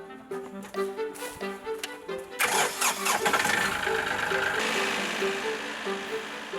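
A tractor engine on a farm in Tongyeong cranks with rhythmic pulses, then catches and settles into a loud, rough mid-pitched idle up close.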